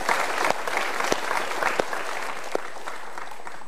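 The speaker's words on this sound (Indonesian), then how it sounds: "Kita berikan tepuk tangan untuk dua orang yang mau curhat." An audience at a live motivational talk show claps steadily for two guests called up on stage, producing dense, sustained applause with a few sharper individual claps standing out near the microphone.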